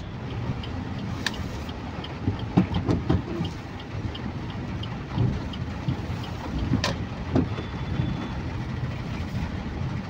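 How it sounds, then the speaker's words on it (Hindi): Heavy rain pours steadily throughout with low rolling rumbles of thunder, and a couple of brief sharper cracks stand out near the start and later on. "एते वर्षा काटुची।"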